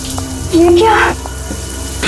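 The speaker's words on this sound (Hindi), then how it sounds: "पानी का नल खुला छोड़ के मम्मी तो ऐसा कभी नहीं करती।" A water tap left running gives a steady splashing hiss throughout, with a brief louder tonal sound rising over it midway.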